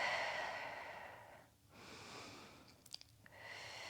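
Slow, soft breaths during a Pilates stretch, two long airy inhales and exhales close by and quiet, with a brief snuffle near the end.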